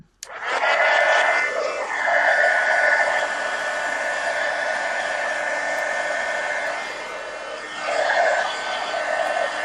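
A heat tool blows hot air to dry paint splatters on a magazine journal page: a loud, continuous close-up whirring roar that starts abruptly and runs steadily with slight changes in pitch, with no talking.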